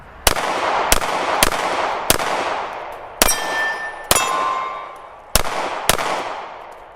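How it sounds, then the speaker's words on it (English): Eight sharp, loud gunshots from a pistol fitted with an AIMWIN PE320 enclosed emitter optic, fired at a cardboard target outdoors at a steady, unhurried pace, each with a short echoing tail and a faint metallic ring. "I'm gonna take some shots of the cardboard."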